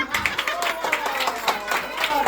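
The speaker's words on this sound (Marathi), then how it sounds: "टाळ्या वाजवा" People at a village family gathering clap their hands together after a song: a quick, roughly rhythmic run of close claps, moderately loud, with a bit of crowd murmur.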